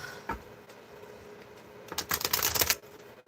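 A deck of cards is shuffled nearby, with faint scattered clicks followed by a dense burst of rapid riffling flutter, with no voices.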